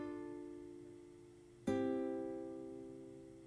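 Nylon-string guitar patch from the Presence XT sampler playing a chord progression: a soft, ringing chord fades slowly, then a second strummed chord sounds with a sharp attack and decays, played alone and quietly.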